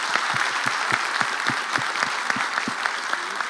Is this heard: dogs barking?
no